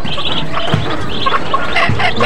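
Bantam chickens at a small farm, their clucks and chirps loud and close, overlapping continuously with no talk over them.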